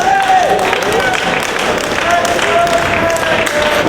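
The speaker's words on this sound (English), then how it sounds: "Crowd now showing their appreciation of both men." A wrestling crowd at an ROH event applauds both wrestlers, giving steady, dense clapping and crowd noise throughout with no clear break.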